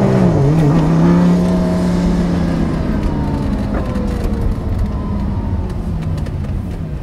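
Audi R8 V10 with supercharged and turbocharged engines: a loud, close engine drone that rises then slowly falls in pitch as the car accelerates and cruises, with steady road and wind roar beneath.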